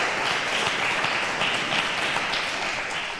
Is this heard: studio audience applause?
yes